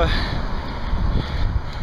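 Strong headwind while cycling up a steep mountain pass in the Val d'Aran, Pyrenees: a constant, close, buffeting roar of wind across the microphone that lasts throughout.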